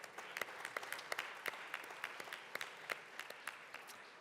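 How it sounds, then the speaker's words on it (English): Applause from a legislative chamber audience, faint and distant, with scattered individual claps standing out against a soft wash of hands for a few seconds. "can we give them a round of applause?"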